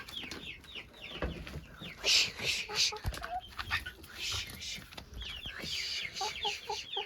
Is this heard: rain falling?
no